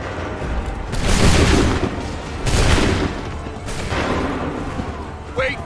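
Musket volleys boom in Assassin's Creed 3, three heavy rolling bursts of massed gunfire a second or so apart, loud and reverberant, with shouted voices around them.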